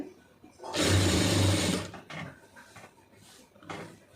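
A sewing machine stitches a blouse in one loud, fast whirring run of about a second, followed by quieter clicks and handling knocks as the fabric is turned at the needle.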